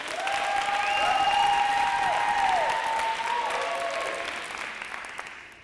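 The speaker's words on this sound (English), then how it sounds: "let's give just a quick round of applause to our workers that help make this possible" Steady audience applause for the workers at a comedy show inside a prison, sustained clapping from a moderate crowd with a faint tonal sound running under it.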